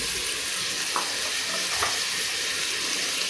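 Three chopped tomatoes fry in hot oil in a pressure cooker for egg biryani, giving a steady close sizzle with a couple of soft stirring scrapes.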